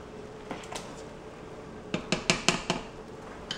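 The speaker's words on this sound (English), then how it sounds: "And we'll keep stirring the linguine." Utensils clink and scrape against a pot of linguine being stirred on the stove while clams steam in a frying pan, with a quick burst of sharp metallic knocks after a quieter stretch.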